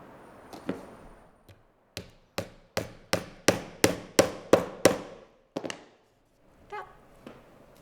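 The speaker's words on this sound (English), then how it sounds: "You want to hammer it until it's totally flush and you can't feel the head." Heel nails hammered into a shoe sole during shoemaking, a quick series of about ten sharp, loud metallic-wooden blows in a steady rhythm, close by, with a few softer taps before and after and no talking.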